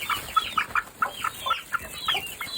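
Broody hen and chickens in a coop, a rapid string of soft, close clucks and short chirps in uneven rhythm, with no talk over them.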